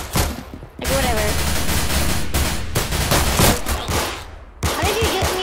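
Dense bursts of gunfire from the online shooter Arsenal, rapid overlapping shots filling the clip with brief gaps, loud and close, with voices speaking over parts of it.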